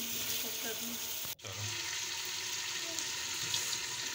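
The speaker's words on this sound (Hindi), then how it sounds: "तेज़ आंच में हम लोग इसे भून रहे हैं।" Beef paya (trotters) frying in oil over a high flame gives a steady, dense sizzle that fills the whole stretch, broken by one brief sharp dropout as the pan is stirred.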